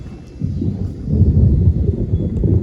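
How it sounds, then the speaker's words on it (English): Thunder during an approaching storm, a low, rolling rumble that builds and swells for a few seconds, fairly loud and heard on its own without talk. "A lot of thunder."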